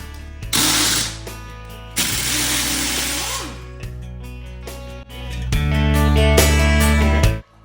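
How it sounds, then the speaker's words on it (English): An air impact wrench fitted with a 19mm socket spins wheel nuts off a Jeep Renegade in short, loud bursts of whirring hammering, several separate runs with brief pauses between them. "We're gonna grab our air impact."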